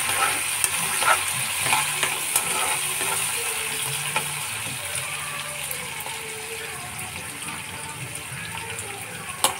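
Telangana-style curry ingredients, including halved vegetables, stirred together in a hot pan, a steady sizzle with irregular scraping and clinking spoon strokes throughout, fairly close.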